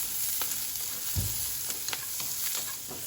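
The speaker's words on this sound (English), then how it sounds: "A very quick stir fry and remove, set aside." Peppers and onions stir-fry in hot oil in a pan on high heat for a Sichuan beef and pepper dish. A loud, steady sizzle runs throughout, with scattered scraping and tossing clicks and a soft thump near the middle.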